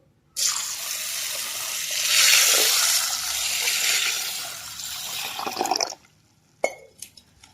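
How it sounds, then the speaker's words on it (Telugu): Water pours steadily into a bowl of green gram lentils for several seconds, splashing loudly, then stops, followed by a couple of light knocks. "ఒక గంట వరకు ముందుగా వాటర్ పోసేసుకుని నానబెట్టుకుందామండి పప్పుని"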